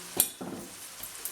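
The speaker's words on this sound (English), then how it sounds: "sorry about the clattering noises." Pots, pans and utensils clatter while vindaloo curry is cooked, with a sharp metallic clink followed by a duller knock and a few lighter taps afterward, close and fairly quiet, with no talking.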